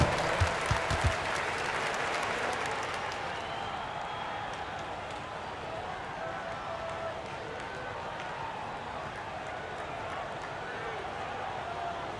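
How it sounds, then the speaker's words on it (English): Arena crowd applause in NBA 2K25 during an all-time Orlando Magic versus Los Angeles Clippers game, a steady moderate wash of clapping and crowd murmur with a few sharp knocks at the start, continuing evenly without a clear ending. "Give yourself a round of applause."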